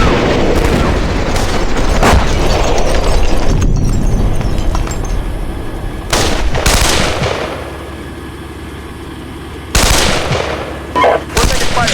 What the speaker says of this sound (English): We're taking fire here.